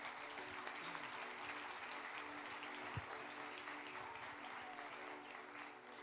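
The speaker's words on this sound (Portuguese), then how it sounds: "vamos dar um forte aplauso." Church congregation applauding during a Sunday morning service, a steady, fairly quiet wash of many hands clapping across the room, with faint voices and a low hum beneath.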